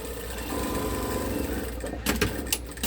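A sewing machine runs steadily while stitching a quarter inch seam on a Christmas stocking, with a continuous close motor whir that briefly speeds up near the end.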